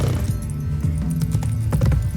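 Roach, Geralt's horse in The Witcher 3, gallops with steady, rapid clip-clop hoofbeats close by, loud and continuous throughout with no talking.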